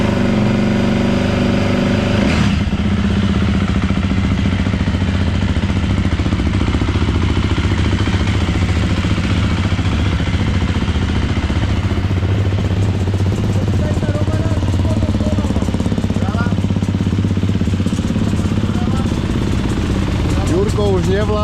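A motorcycle engine runs steadily for a long stretch, loud and close, with a constant low drone and slight shifts in pitch, under an outdoor wind-like hiss.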